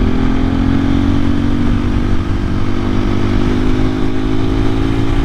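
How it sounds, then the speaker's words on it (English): A 2024 KTM EXC-F 500 Six Days dual sport motorcycle heard close up, its single-cylinder engine droning loud and steady as it drops a gear, the pitch shifting only slightly. "I'm gonna drop a gear."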